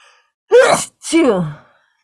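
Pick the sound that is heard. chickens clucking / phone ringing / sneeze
sneeze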